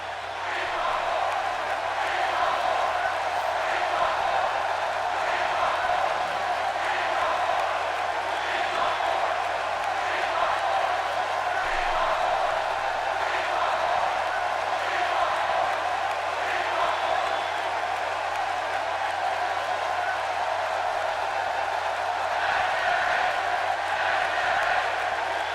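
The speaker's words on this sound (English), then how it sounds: "Everybody cheering for Nakamura." Arena crowd in WWE 2K18 cheering for Shinsuke Nakamura on Monday Night RAW in Raleigh, a steady, loud, dense roar with faint pulsing swells and no clear breaks throughout.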